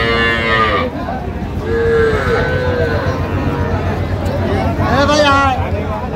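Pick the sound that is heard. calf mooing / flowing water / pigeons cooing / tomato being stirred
calf mooing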